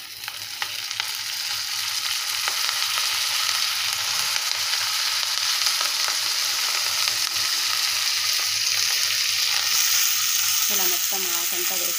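Ponnaganti leaves fry in a pan over a high flame with a dense, steady sizzle that crackles continuously throughout, loud and close, with a few clinks near the end.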